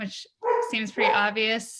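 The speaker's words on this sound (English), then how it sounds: "sorry for my dog barking" A pet dog barks in a home during a relaxed online chat, a few yips and barks mixed with a person's speech across the short stretch.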